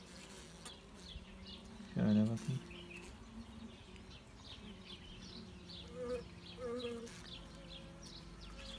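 Native honeybees buzz faintly around their healthy hive outdoors, a low, steady hum under a man's brief speech and some scattered handling noises.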